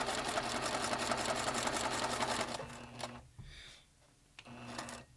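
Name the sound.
sewing machine stitching fabric seam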